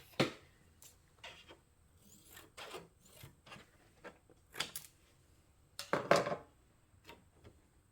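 Scissors snip away excess quarter-inch fabric seam allowance on a notepad holder, a series of short, crisp cuts spaced irregularly, close and fairly quiet.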